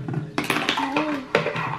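A cooking pot and utensils clatter while crab is being boiled, with several sharp metallic clanks and scrapes close by and a voice speaking briefly.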